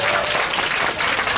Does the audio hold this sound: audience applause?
yes